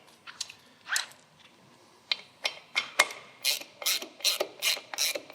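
A screw-on cover with no logo is threaded by hand onto a 100th Anniversary Dyna motorcycle: a run of sharp, close ratcheting clicks, sparse at first, then quicker and steadier toward the end.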